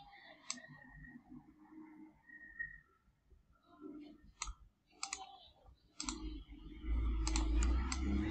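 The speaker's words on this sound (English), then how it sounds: "Just click this one and mapupunta na siya dyan" A computer mouse clicks a handful of times, with short, sharp, separate clicks in a quiet room. Faint talk and a brief low hum are heard between them.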